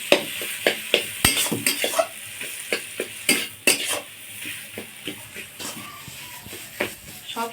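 Grated potato with spices frying in a pan, with a steady sizzle under frequent sharp scraping and stirring knocks from a spatula against the pan.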